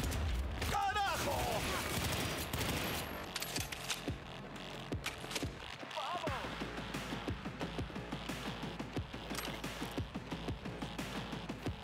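Repeated bursts of automatic gunfire in the video game Cyberpunk 2077, loud and close, with short volleys of shots running through a busy mix of combat and game effects.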